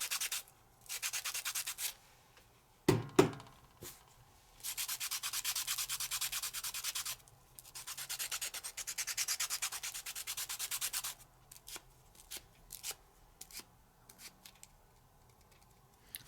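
A colored pencil scraped against a handheld sandpaper stubby sharpener in a craft studio, with repeated bursts of dry rasping strokes separated by short pauses and a few light taps, close and clear.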